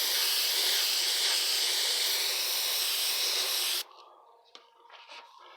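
An airbrush sprays paint in a steady hissing stream for nearly four seconds while lightly dusting through a stencil, then cuts off abruptly, followed by faint handling clicks.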